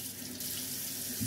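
Water runs steadily from a kitchen tap, a close, continuous hissing splash with a brief change in the flow near the end, while cooking.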